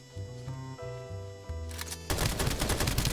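Video-game AK rifle fire breaks out in a loud, dense run of rapid shots at the end, after a stretch of tonal game sounds.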